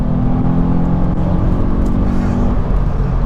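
A Volkswagen Up GTI engine revving after a downshift while being driven hard: a steady, loud in-cabin engine drone and rumble with a rising tone that eases off near the end.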